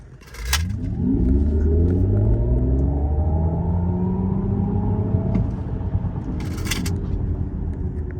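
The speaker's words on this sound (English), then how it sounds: "I actually have a video for my cell phone flooring the car at a red light" Under full throttle from a standstill at a red light, a Mercedes EQE 350+ electric car gives a rising electric-motor whine that climbs steadily in pitch over a low road rumble, heard from close by.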